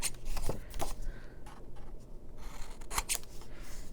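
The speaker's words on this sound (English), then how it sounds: "And then I'm going to trim down this side." Scissors trimming paper for a junk journal page, with several short, crisp snipping cuts close by and faint paper rustling between them.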